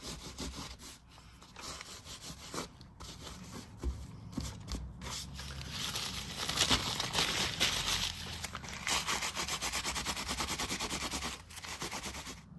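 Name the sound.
rubbing excess grout off mosaic coasters with newspaper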